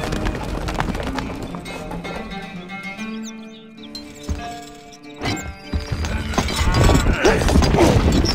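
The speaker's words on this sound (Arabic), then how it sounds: "الفرس تعدو" Galloping horse hooves in the strategy game Stronghold Crusader, a rapid clip-clop beat under busy game music and effects that swell louder toward the end.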